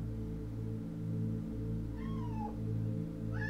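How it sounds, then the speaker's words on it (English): Cats meow outside in a modded Minecraft world. A couple of rising and falling meows sound over a steady, low humming background, with no talking. "There are strange cats outside."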